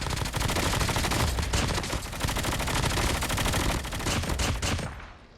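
Rapid automatic gunfire in the mobile shooter Call of Duty Mobile, loud sustained bursts of shots with brief pauses, trailing off at the end.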